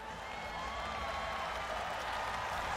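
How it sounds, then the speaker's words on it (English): An arena crowd at a Dynamite!! 2009 MMA event roars and applauds after an arm break, a steady, loud wash of cheering and clapping with a whistle cutting through. "This crowd absolutely loving it."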